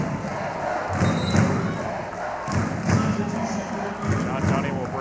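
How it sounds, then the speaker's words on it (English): A Penn State arena crowd at a college volleyball match against Stanford roars and cheers continuously, with rhythmic thumping and stomping underneath and a commentator talking over it. "As now we finally hear the Penn State crowd back into it"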